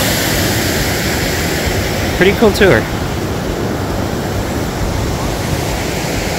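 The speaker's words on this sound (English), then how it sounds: "this is the creek that goes down through and across the bridge" A glacier creek near the Kennecott Glacier in Wrangell-St. Elias National Park, Alaska, rushes in a loud, steady broadband wash of water, and a voice speaks briefly over it midway through.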